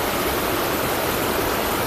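The Divochi Sliozy (Maiden's Tears) waterfall pours in a steady, dense broadband rush, close and continuous with no voices.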